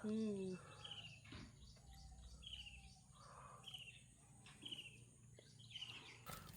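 Small birds chirp repeatedly from a tree in a rural village garden, short bright calls spaced through the moment with faint insects buzzing beneath, after an opening vocal sound.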